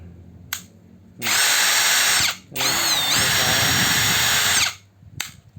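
An XCORT cordless drill whirs loudly in two bursts of a couple of seconds each, speeding up and slowing down, with brief quiet gaps and a short spoken word between.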